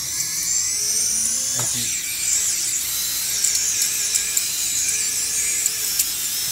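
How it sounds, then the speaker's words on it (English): QAV 210 quadcopter motors spin with a high, shrill whine, steady but with brief dips and small spikes as the overheating motors stutter, heard close; a voice briefly speaks. "The motors are almost stopping, and they're getting very warm, so I don't want to run it real long"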